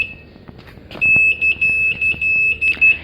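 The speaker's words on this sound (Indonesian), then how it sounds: "Nah, bunyinya seperti ini." An Android M45OTO motorcycle alarm sounds a loud, piercing electronic siren in repeated on-off bursts of a steady high tone, close to the listener.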